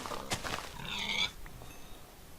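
Farm animals in the Minecraft video game, a short animal call with a bright nasal bleating quality rising over a quiet background, preceded by a brief click, no talking.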